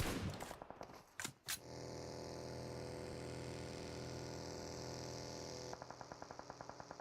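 Gunshots in a PUBG Mobile esports match: a few quick shots and bursts at the start, then a steady droning hum, with a faint, evenly spaced run of shots near the end.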